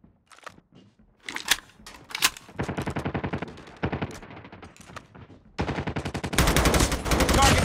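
Call of Duty video game gunfire: short single shots at first, then loud rapid automatic bursts that run longer and denser toward the close.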